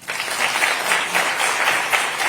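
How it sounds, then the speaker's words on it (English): An audience gives sustained, dense applause for US Ambassador to India Sergio Gor, rising quickly at the start and holding steady and loud with no talk over it. "another round of applause, please, for Ambassador Gor"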